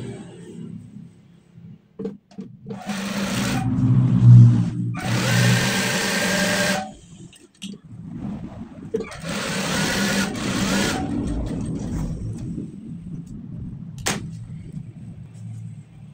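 A sewing machine stitches a trouser pocket in several bursts, each a steady whirring run lasting one to a few seconds, with pauses and soft handling clatter in between, heard close up.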